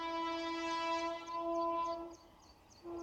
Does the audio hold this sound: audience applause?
no